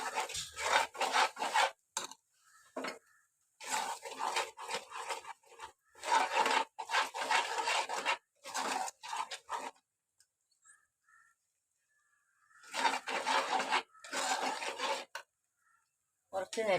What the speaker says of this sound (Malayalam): തീ കുറച്ച് വെച്ച് നല്ലവണ്ണം ഇളക്കി കൊടുക്കും.